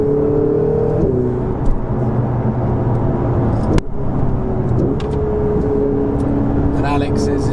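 Ferrari 488 GTB engine accelerating hard on the road, a loud, near engine tone climbing through gear changes with a sharp shift midway, while someone talks over it.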